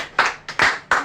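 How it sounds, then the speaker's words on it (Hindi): A small group in a Guru Purnima gathering claps hands in three short bursts, each a loud flurry of claps that fades quickly, with brief gaps between them. "ताली बजाओ।"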